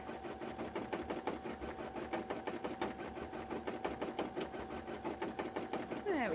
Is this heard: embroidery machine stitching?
yes